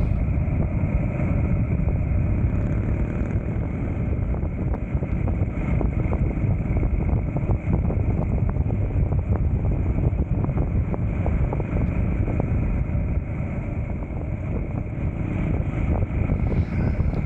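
A Jawa 350 OHC and a Dnepr motorcycle ride along with their engines running. Together they make a steady, loud, low rumble that continues without a break, mixed with wind noise on the microphone.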